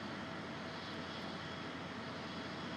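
The jet engines of an SSG Embraer E170 airliner in the X-Plane 11 flight simulator produce a steady, dense whooshing drone during an aerial tour over Salt Lake Valley, constant and unbroken with no voices.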